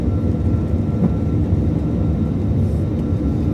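A SriLankan airliner climbs out after leaving Bangalore, its engines a loud, steady cabin roar with a deep, constant drone and no break.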